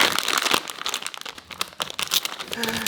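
Plastic wrapper of an Asian or Spanish snack being torn open, loud crinkling and crackling close to the mic in irregular bursts, ending in a faint tone.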